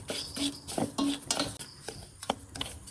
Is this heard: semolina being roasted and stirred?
yes